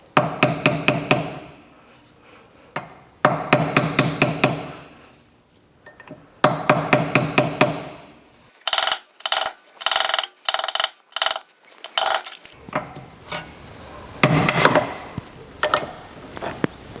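A hammer repeatedly taps around a Porsche 928 wheel hub to work it loose during a brake system rebuild, coming in loud, close bursts of rapid metallic knocks separated by short pauses.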